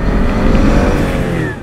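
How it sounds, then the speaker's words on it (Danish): A 2014 Mini Cooper's three-cylinder turbo engine pulls hard under acceleration, a loud, close rising drone with steadily climbing pitch and no talking. "for den trækker rigtig, rigtig godt."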